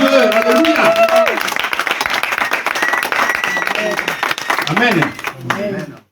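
A church congregation applauds and cheers loudly in continuous clapping, with a voice speaking and singing over the crowd before it fades out.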